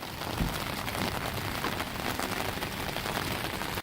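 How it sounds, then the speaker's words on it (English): Heavy rain falls steadily outdoors on a shopping trip, a dense, continuous hiss and patter on surfaces with no break. "This rain is crazy."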